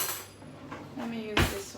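A metal spoon picked up among pots while cooking spaghetti, brief clinks and a sharp metallic clatter near the end, with someone talking.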